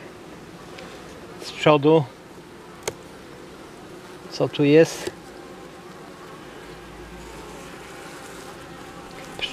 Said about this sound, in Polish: Pszczoła nie jest poddymiana.